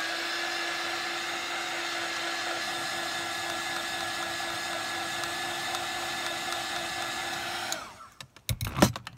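A heat tool blows steadily to dry stamped ink on a card during Christmas tag crafting, a loud continuous whirring hum with a high whine that runs unbroken for most of the clip before switching off near the end.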